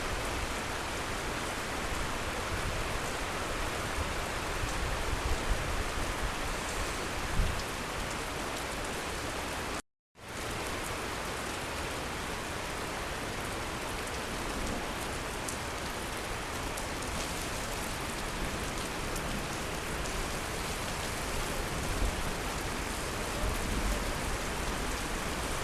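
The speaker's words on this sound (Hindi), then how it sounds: "ये देखें बारिश जो है काफ़ी तेज़ हो गई है मदीना शरीफ में, मस्जिद नबवी शरीफ में" Heavy rain pours steadily at Masjid Nabawi in Medina, a dense, constant hiss of drops on surfaces that holds through the whole stretch apart from one momentary dropout, with no talk.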